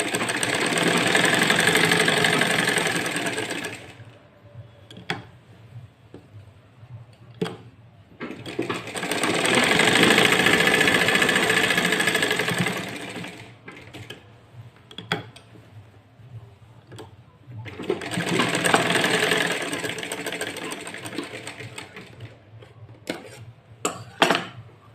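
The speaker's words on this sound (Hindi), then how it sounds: "इस तरह से हमने दोनों कंधे की सिलाई कर ली।" Sewing machine running in three long bursts of stitching along the shoulder seams of a designer kurti, with short pauses and a few ticks between runs; close and fairly loud, no talking.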